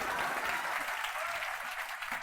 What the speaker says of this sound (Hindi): एक बार इनके लिए जोर से ताली होनी चाहिए।